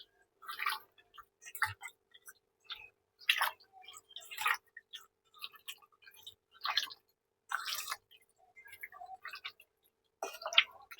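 Raw chicken pieces coated in marinade with slit green chillies squelch wetly as they are kneaded by hand, a close run of irregular squishy bursts with short pauses between handfuls.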